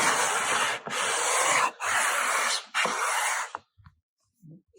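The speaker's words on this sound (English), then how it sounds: "as I start sanding on here," Four long, loud strokes of sandpaper rasping across a wooden guitar fretboard in a radius sanding jig, close up, in a steady back-and-forth rhythm, then quiet.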